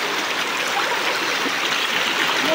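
Stream water flows and trickles steadily over rocks in a bathing spot, a continuous close rushing wash with no talking.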